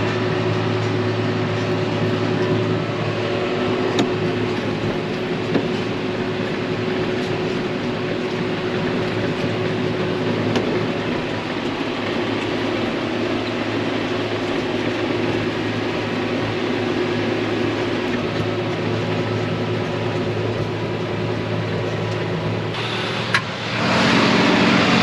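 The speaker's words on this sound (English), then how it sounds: "Let's mow some hay." A MacDon swather mowing hay at the start of oat harvest drones steadily for the whole stretch, a constant loud engine hum with a faint mechanical rattle, cab-close and unbroken, no talk.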